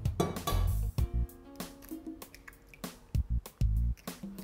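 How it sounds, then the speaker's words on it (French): Lukewarm water is poured into pizza dough ingredients of flour, salt, baker's yeast and egg in a bowl, then mixed. Wet drips, squishes and light clinks come in irregular bursts, close and moderately loud. "on va mouiller le tout avec de l'eau tiède et mélanger au fur et à mesure"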